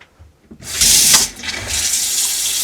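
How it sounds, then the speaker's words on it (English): Hot water tap in an RV turned on: after a few small clicks, water gushes loudly from the faucet, briefly surges, then settles into a steady close running stream with no talking. "now I'm gonna turn the hot water on"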